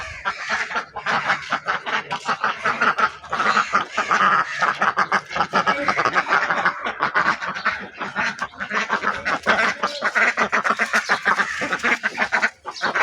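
A flock of ducks quacks in a dense, overlapping, nonstop chorus as the birds rush in to be fed, loud and close throughout.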